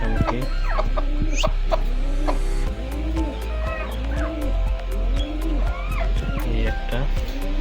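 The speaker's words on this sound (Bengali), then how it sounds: "আজকেই উঠাইছি মুরগিগুলা" Native village hens in an old rebuilt cage cluck repeatedly close by, rising and falling calls over a steady low hum, while a person talks among them.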